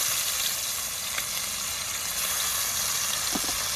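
Onion, ginger, garlic and green chilli frying in hot oil in a pan, a steady close, even sizzle and hiss running throughout with no pauses and no talking.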